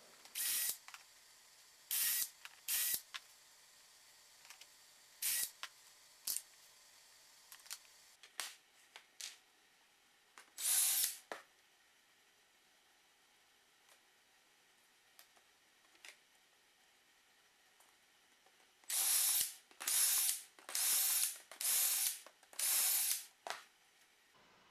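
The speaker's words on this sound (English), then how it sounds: "clamp it in place, and drill out the holes." Drilling shelf pin holes in the clamped wooden sides of a bookcase carcass: bursts of high-pitched drilling, some brief and some longer, with a tight cluster of rapid drill runs near the end; quiet gaps in between.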